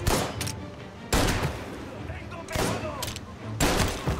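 Gunfire in the video game Mafia: Definitive Edition: loud, close bursts of rapid shots, with four or so volleys separated by short gaps and a voice talking between them.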